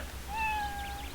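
A single small cat's meow from the game Immortal Cities: Children of the Nile, a clear rising-then-level tone that swells and fades over about a second, alone over a faint background hum.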